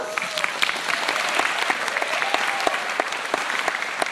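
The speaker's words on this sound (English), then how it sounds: "Let's give our performers one more round of applause." A school family gathering audience gives a warm, sustained round of applause for second-grade performers after their skit, dense steady clapping filling the room at even loudness throughout.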